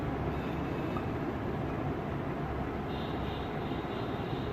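An electric blender grinds a chikoo milkshake made with dates, sugar and cream, giving a steady, dense whirring roar that holds evenly throughout at moderate loudness.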